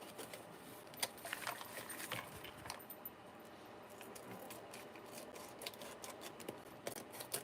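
Scissors trimming paper for a grunge junk journal, a faint continuous run of small snips and paper rustles close by, with no talking.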